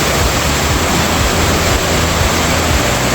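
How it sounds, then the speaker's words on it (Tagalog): Water from a natural spring flows and splashes steadily, a loud, dense, continuous rushing sound with no pauses. "Bukal to."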